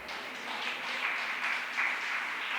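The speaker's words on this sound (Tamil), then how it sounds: "கைத்தட்டல சொல்லுவோமா?" A church congregation applauds, a steady, even wash of many hands clapping at moderate distance with no talk over it.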